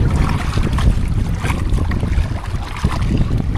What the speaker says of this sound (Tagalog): Grabe, lakas ng hangin.